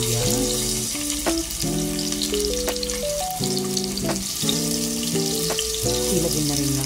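Garlic, onion and ginger sauté in hot oil, a steady frying sizzle running under a melodic background tune, with a few stirring clicks, no talking.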